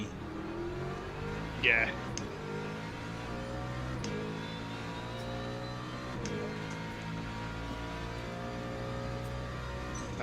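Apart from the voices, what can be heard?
Lexus race car engine revving in the video game Le Mans Ultimate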